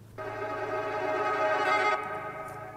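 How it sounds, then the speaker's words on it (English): Reversed saxophone sample in a music production: a sustained, swelling harmonic tone that fades in and builds in loudness, then cuts off sharply, with no talk. "That's like a saxophone played backwards, I think. I reversed that part."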